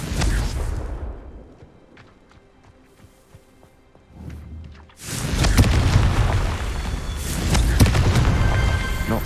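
The Confringo explosive spell goes off in the Hogwarts Legacy video game: a quiet stretch with scattered ticks gives way to a soft thud, then a loud, rolling boom and a roaring burst that lingers.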